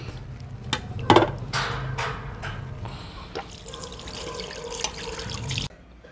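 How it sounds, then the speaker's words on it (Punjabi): Tap water runs steadily into a sink as aloe vera gel is rinsed under it, a continuous close splashing with brief louder gushes, then the flow cuts off abruptly near the end. "ਇਹ ਜੈਲ ਨੂੰ ਆਪਾਂ ਧੋ ਲੈਣਾ"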